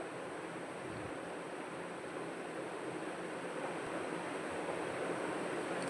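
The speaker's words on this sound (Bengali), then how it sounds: "এখানে বাতাসও হচ্ছে আজকে তীব্রভাবেই বাতাস হচ্ছে" Strong wind blows steadily at a house right beside the sea, a dense, even roar of rushing air with no voices, constant and moderately loud throughout.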